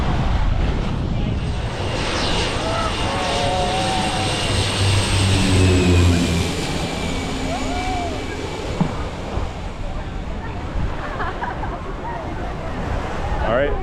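An airplane flying low over Maho Beach in St Maarten, its engine roar swelling loudly overhead then fading away, with surf and beachgoers' chatter underneath.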